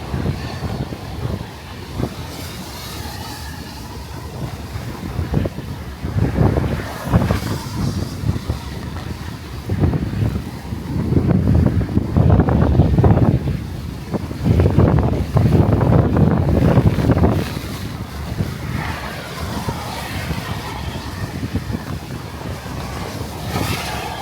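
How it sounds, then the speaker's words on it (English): Strong, relentless wind roars during a severe thunderstorm in Brooklyn, New York, with heavy buffeting gusts swelling and easing across the microphone and no voices. "The wind will not stop."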